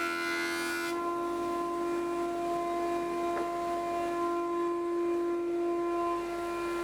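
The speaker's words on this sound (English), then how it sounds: "I can hear progressively the planer is taking more timber off." A rough burst of a jointer planer cutting timber for about a second, then a steady, loud electric motor whine holds with a constant pitch, with no talking.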